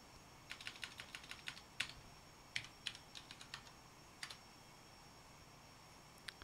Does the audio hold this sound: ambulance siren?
no